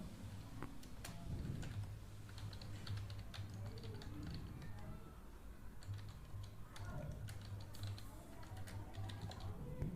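Steady computer keyboard typing while code for a Next.js chat-room messaging feature is written, continuous soft clicking runs for the full stretch with a low hum beneath and no talking.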